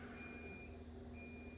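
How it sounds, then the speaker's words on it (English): Kitchen oven beeping indoors, a steady faint electronic tone held through the short span, distant and alone without talk. "beeping is actually from the oven in the kitchen"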